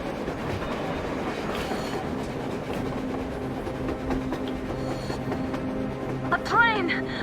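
A train runs on the surface in the post-apocalyptic game Metro Exodus, with continuous rumbling and rhythmic clatter of wheels under a brief squeal, heard at a moderate distance.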